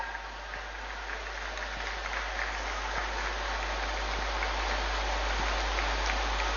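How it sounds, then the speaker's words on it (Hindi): Audience at a college foundation-stone ceremony in Chaibasa claps steadily throughout, a dense, even applause with occasional sharper claps standing out over a low electrical hum. "तालियां हो"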